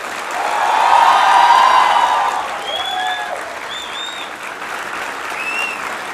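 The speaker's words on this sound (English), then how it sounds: "give the biggest round of applause that you've ever given to your parents" A graduation convocation crowd gives its parents a big round of applause, with dense clapping swelling and then easing, topped by scattered whistles and whoops.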